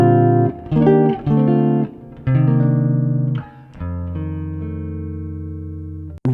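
Jazz guitar chord melody of Silent Night, the first three measures played as sustained chords with extended voicings such as a major 6/9, ringing clearly and alone with no talking.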